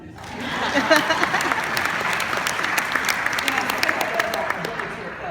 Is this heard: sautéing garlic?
no